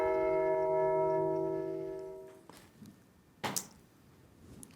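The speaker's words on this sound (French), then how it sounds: "donc le gong a sonné" A quiz show gong rings out with a long, steady resonant tone that fades over about two seconds, followed by brief knocks and a sharper clatter, with no talk.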